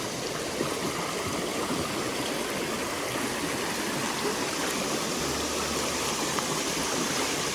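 A waterfall spills into a shallow stream with a constant, broad rushing roar, steady and close, with no voices.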